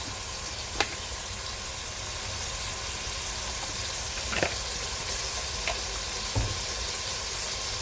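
Cooking oil sizzles steadily in a pan before garlic goes in for sautéed cabbage with shrimp and tofu, a continuous close frying hiss with a few sharp crackles and pops.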